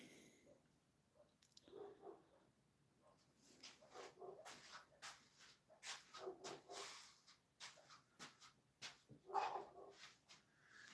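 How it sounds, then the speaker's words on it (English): Neighbor's dogs bark outside, heard faintly through walls as repeated short muffled barks in irregular bursts with some yips, distant and quiet against a still room. "Can you guys hear my neighbor's dogs that never stop barking day and night out there?"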